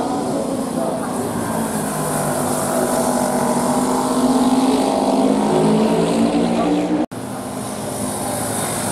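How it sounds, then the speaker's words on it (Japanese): Auto race motorcycles with silencer mufflers lap the Hamamatsu Auto race track, giving a steady, deep, resonant engine drone that carries on continuously with a brief cut near the end. "雅人選手が入ってきた時に思ったんですけど、やっぱり、低い音がですね、すごく響くようになってます。"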